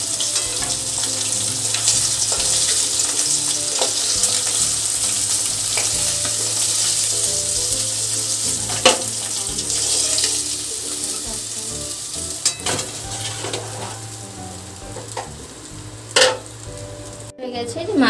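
Fish fries in hot oil in a home kitchen as part of a fish curry, giving a steady close sizzle with occasional sharp clinks and scrapes of a utensil turning the pieces.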